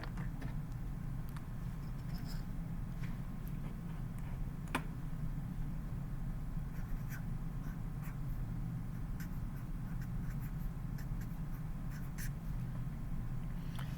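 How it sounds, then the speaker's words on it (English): Pen or pencil writing out a math problem for algebra notes, a faint scratchy stroking over a low steady hum, with a few light ticks and no voice. "Let's write that down."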